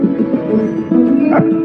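A small dog named as present gives a few quick yips and whimpering barks, close by and fairly loud, with no talking.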